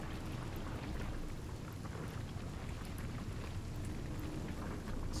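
Steady rain in the Divinity: Original Sin video game, a dense even hiss of falling water that holds level throughout with no voices over it.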